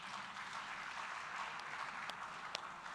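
Audience applause for Taiwo, a tax speaker at a corporate forum, a steady faint wash of many hands clapping from a distance, with a couple of sharper claps standing out near the end.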